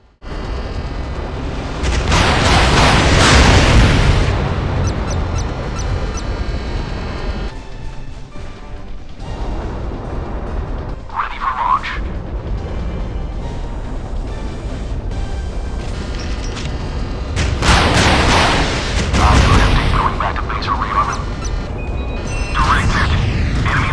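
Warships trade fire in the naval combat game Modern Warships: loud, rumbling explosions and gun blasts roll continuously, with heavier booming surges near the start and again toward the end.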